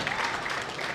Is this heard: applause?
yes